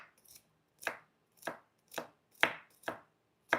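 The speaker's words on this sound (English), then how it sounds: "Look at how it's going through the onion." A knife slicing through an onion while preparing tuna tartare, six crisp chopping strokes falling at a steady, even rhythm, close and clear with quiet gaps between them and no talking.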